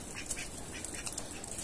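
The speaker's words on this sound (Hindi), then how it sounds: "और ये रही अपनी बतखें, इनको भी आज थोड़ा निकाला है बाहर।" Ducks let out a few faint quacks outdoors in a yard, brief scattered calls over low background noise.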